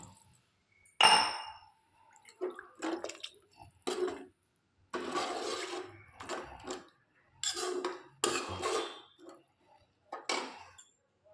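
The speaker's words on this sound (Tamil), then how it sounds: "இதில் ஒரு கிளாஸ் வாட்டர் ஆட் பண்ணிவிடுங்க" A glass of water is poured into egg masala gravy, giving an opening clink, then scattered splashing, sloshing and bubbling bursts at close range.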